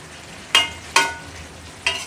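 Mola fish chorchori curry simmers and fries in a pan as roasted cumin powder is stirred in; a low sizzle runs under three sharp, evenly spaced clinks of a spoon against the pan.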